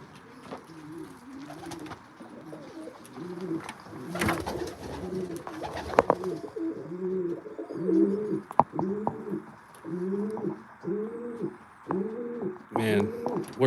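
Pigeons cooing in a loft, a long run of repeated soft, rolling coos from nearby birds with occasional rustles and knocks in the background.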